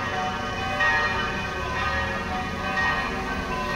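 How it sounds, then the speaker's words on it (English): The church bells of Medjugorje ring for Sunday morning mass, a continuous ringing wash with sustained overlapping tones at moderate distance. "Now you have the clocks, or the bells of Medjugorje, of the church"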